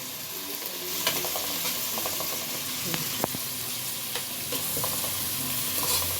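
Onions and mint sizzle steadily in a frying pan while being stirred, with scattered scrapes and clicks of the spoon over a continuous hiss, close and fairly quiet, with no talking.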